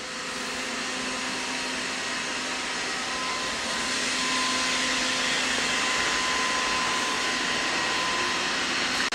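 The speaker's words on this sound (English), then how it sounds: "All right, I've got them running." Two robot vacuums, a MAMNV and a ROPVACNIC rated around 4000–4200Pa suction, running together on floor and rug: a steady, loud whooshing motor whir with a faint tonal whine, constant throughout and getting slightly louder midway.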